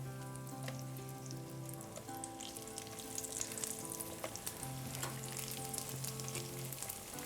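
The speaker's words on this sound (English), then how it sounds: "we're gonna take a few slices of bread and we're gonna toast them in these" Bread slices toasting in oil with garlic and spices for a roasted garlic and tomato soup, a soft, faint sizzle and crackle beneath a steady low hum, with no talking.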